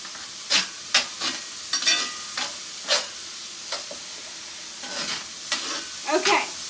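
Mushrooms sauté in a pan with a constant close sizzle, broken by a regular series of sharp scrapes and taps as they are stirred, moderately loud.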